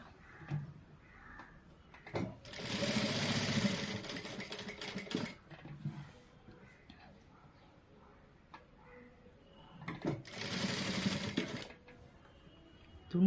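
Domestic sewing machine stitching a churidar neck design in two bursts of fast whirring, close and fairly loud, with crows cawing outside and faint household sounds between runs.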